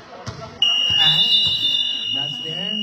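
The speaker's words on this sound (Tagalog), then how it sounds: "Buzzer na lang yan." A loud sustained buzzer at a basketball game marking the end of the third quarter, sounding steadily from early on to the end while a commentator talks over it.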